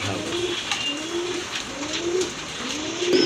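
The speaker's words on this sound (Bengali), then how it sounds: "এখানে কিন্তু আরেক জোড়া কবুতর আছে দেখতে পাচ্ছি এক জোড়া ব্ল্যাক লক্ষা কবুতর" A pair of black lokkha pigeons at a pigeon farm coo close by, about four rolling, rising-and-falling calls spaced evenly over a quiet backdrop.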